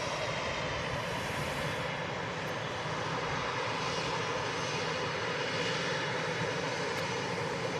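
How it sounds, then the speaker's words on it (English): A Vueling Airbus A320 arriving at Manchester Airport on a flight from Barcelona, its jet engines making a steady broad roar that holds loud and constant, heard from a distance with no talk. "is a Vueling A320 in from Barcelona"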